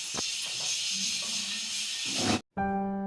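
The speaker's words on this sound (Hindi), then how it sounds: "कुकर में दाल और सब्जी बन रही है।" A pressure cooker cooking dal and vegetables on a home kitchen stove vents a loud, steady hiss for over two seconds, then cuts off abruptly, followed by a brief tonal whistle-like sound.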